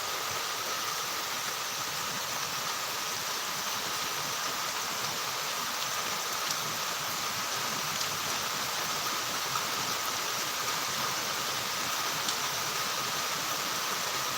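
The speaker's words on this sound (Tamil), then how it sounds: "சிதம்பரம் பகுதியில் இன்று காலை அதி கனமழை பெய்து வருவதை" Heavy rain falling in Chidambaram, a steady, even hiss of downpour with no breaks, moderately loud and constant throughout.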